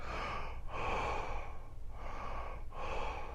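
Slow, deep breaths drawn in and let out during meditation, three close, soft airy swells separated by brief pauses.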